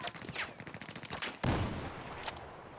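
Gunfire in the Battlefield 4 video game: a rapid string of sharp shots and bursts with a heavy boom midway, loud and close in a busy battle mix.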